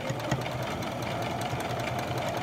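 An embroidery sewing machine stitching on a baby milestone blanket makes a steady, close mechanical whir with a fast, even needle rhythm throughout, and no talking.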